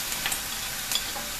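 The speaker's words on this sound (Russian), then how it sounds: "Также обжариваем ее в течение нескольких минут." Carrot being fried together with onion in a pan for a vegetable dish, giving a steady close sizzle with light stirring scrapes, no voices.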